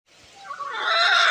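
Chickens at a desi chicken farm cluck and squawk, rising quickly from quiet into a loud, close burst of fowl calls within about a second.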